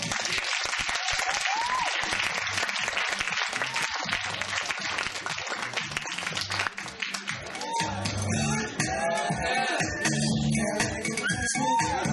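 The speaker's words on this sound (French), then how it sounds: "Merci de les applaudir." Crowd applause and scattered cheers at a stage show, then music fading in under the clapping as it continues to the end.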